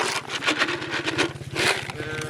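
Sheep being moved across a swamp field bleat in short overlapping calls, with a steady low engine drone and rhythmic pulsing underneath.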